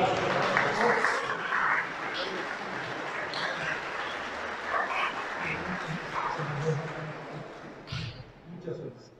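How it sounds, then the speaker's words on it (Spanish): A Sunday Mass congregation applauds after a number draw, steady clapping carrying on for several seconds while voices talk over it and a dog barks a few times. "Y un aplauso, por favor"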